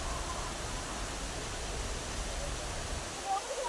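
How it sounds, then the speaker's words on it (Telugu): Steady broadband rush of the Kapila Theertham waterfall in Tirupati, constant and fairly distant, with no distinct events standing out. "ఆ జంగిల్ బుక్లో వాటర్ ఫాల్ చూడండి."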